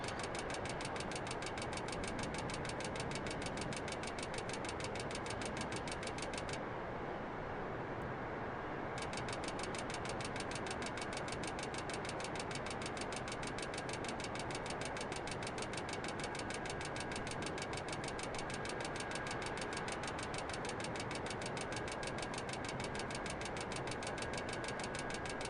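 A Boeing airliner's engines at almost idle throttle in Microsoft Flight Simulator 2020 give a steady, even drone with a faint high whine, continuous throughout with one short dip in the upper tones.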